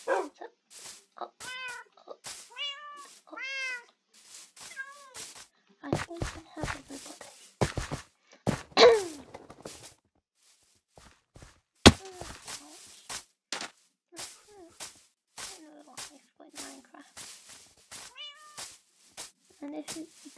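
Minecraft cats meow repeatedly in clear, close bursts, some quick and chirpy, others drawn out, with a person talking in between and a few sharp clicks scattered through.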